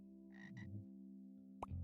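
Cartoonish frogs croak in a virtual frog-feeding game: two short croaks, a longer rising call, and a sharp chirp, over a steady tonal game music bed.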